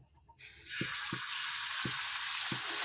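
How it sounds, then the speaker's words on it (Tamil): Sardines dropped into hot coconut oil set off a loud, steady sizzle, punctuated by soft low pops at roughly regular intervals as the oil bubbles around the fish. "உங்களுக்கு மீன் போடும்போதே தெரியும் எண்ணெய் நல்லா சூடாகிருந்தால் இப்படி டப்பு டப்பு டப்புன்னு சவுண்டு கேட்கலாம்"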